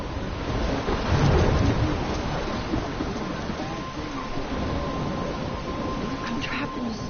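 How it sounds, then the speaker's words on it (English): Heavy rain pours steadily through a thunderstorm, with a loud rumble of thunder swelling early on and a continuous dense wash of rainfall throughout. "I'm trapped in a storm."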